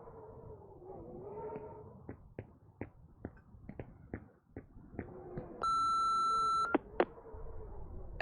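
A voicemail beep from the video game Remothered sounds as one clear electronic tone held for about a second. Before it come several short clicks over a low background hum.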